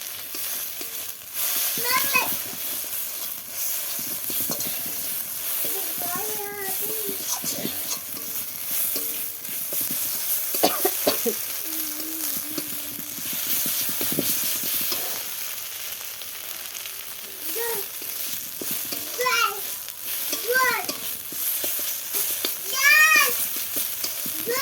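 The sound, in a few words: spice paste (masala) frying in a pan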